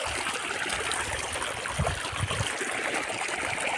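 Irrigation water flowing steadily into a Gujarati farm field with watermelon and vegetable crops, a continuous nearby gurgling stream with a few louder splashes, no voices.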